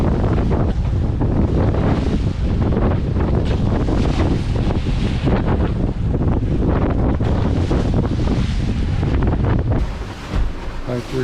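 Strong wind buffets a catamaran sailing singlehanded into a norther in the Sea of Cortez, a loud continuous roaring rush with gusting noise against the microphone and water sounds beneath, easing slightly at the end.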